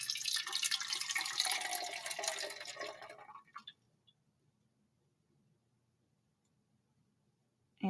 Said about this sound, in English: Now we're going to add 100 milliliters of water